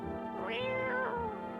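A cat meows in the video game No, I'm Not A Human: a single drawn-out, rising-then-falling meow with a second shorter inflection, close and clear over a faint steady game backdrop.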